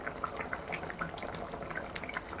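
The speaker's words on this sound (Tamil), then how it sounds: "மஞ்சத்தூள் போட்டு நல்லா கொதிக்குது பாருங்கள்" A pot of dried-fish curry with turmeric bubbles at a gentle simmer, small pops and bursts rising irregularly from the liquid, fairly quiet and close.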